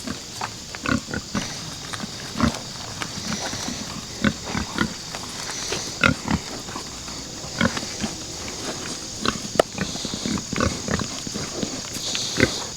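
Several pigs grunt and snuffle close by at feeding time on a farm, a busy stream of short grunts and chomping noises over a constant high-pitched whine in the background.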